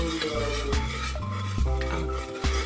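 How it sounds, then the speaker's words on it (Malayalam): A spoon stirring sugar syrup with red food colour for kesari ladoo, bringing repeated dull scrapes and knocks against the pan at an uneven rhythm over a low, steady hum, with no talking. "നന്നായിട്ടൊന്ന് ഇളക്കുക"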